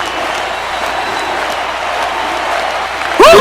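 Wrestling crowd at a live event roaring and cheering, a steady loud wall of voices and clapping throughout, with a sharp burst right at the end.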